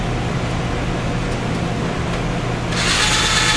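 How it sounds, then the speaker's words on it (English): A power drill fitted with a countersink bit whirs steadily, then bites in near the end with a brighter, louder grinding hiss as the cutter works. "Bring the countersink upside down so that it bottoms out against your hardened bushing here."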